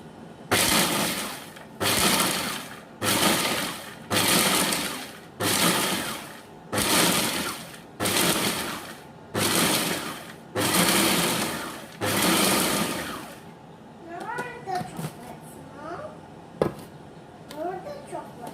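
A food processor pulses oats for no-bake peanut butter granola bars, about nine loud, even bursts of whirring chopping spaced a second or so apart, then quieter clinks and scrapes, with a person talking.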